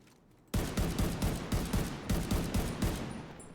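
An automatic rifle fires at a rapid rate in the shooter game The Division 2, opening abruptly after a quiet moment and continuing in close, loud bursts of shots.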